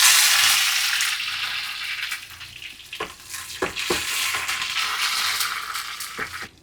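Chopped onion, curry leaves and dried red chilli hit hot oil with mustard seeds for sambar, giving a loud, bright sizzle that slowly eases, with a few sharp clinks of stirring near the end.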